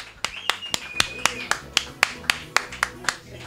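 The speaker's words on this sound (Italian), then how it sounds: "Applauso!" Sparse, sharp claps ring out one after another at a steady pace on an Italian TV talk show, a thin clapping from a few hands rather than a full crowd, with a faint whistle-like tone early on.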